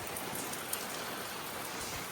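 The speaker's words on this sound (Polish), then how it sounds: "a teraz zaczęło lać. Wygląda na to, że duży deszcz" Heavy rain pours down in Vanuatu as a steady, dense hiss of drops on surfaces, constant and close throughout, with no voices.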